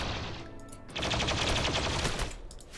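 Colonists shooting at raiding tribals in the video game RimWorld: a quick flurry of gunshots that thickens into a dense volley after the first second, fairly close and continuous to the end, no talk.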